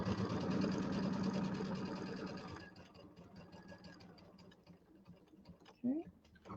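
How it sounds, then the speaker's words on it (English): A sewing machine runs steadily while stitching a quilt, a dense mechanical whir for about two and a half seconds that stops, followed by quieter handling sounds and a brief clunk. "And then I'm going to sew down to the corner."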